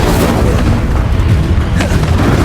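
A Confringo fire spell bursts in a Hogwarts Legacy battle, a loud, sustained booming explosion with heavy low rumble filling the whole moment, close and dense.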